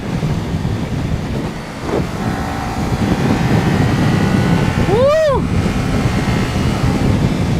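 A vehicle engine with a newly fitted exhaust runs steadily, giving a continuous broad rumble with a brief rising whistle partway through, while a person calls out once.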